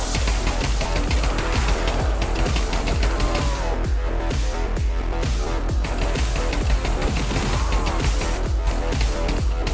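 Rapid, dense Tec-9 gunfire in the VR shooter Pavlov, zombies mode, sustained and loud with continuous sharp bursts and no pauses.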